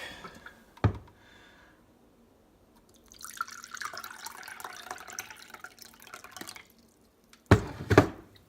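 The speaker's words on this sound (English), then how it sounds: "when I put water in it" Water is poured into a hand-carved maple kuksa cup, a soft splashing trickle for a few seconds between sharp knocks of wood being handled and set down.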